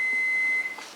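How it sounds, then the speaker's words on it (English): A kitchen-style timer sounding one sustained high-pitched electronic beep, close and clear, lasting about two-thirds of a second before stopping abruptly. "Ignore the timer."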